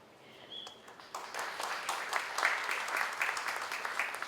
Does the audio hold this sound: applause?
yes